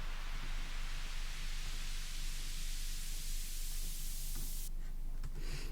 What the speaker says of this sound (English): It's literally just static, normal white noise, and then you're just automating this bandpass filter